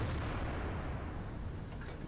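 Centurion AX tank cannon firing a HEAT round in World of Tanks, a dense, loud boom with a long rumbling low-end tail that fills the whole moment and slowly decays.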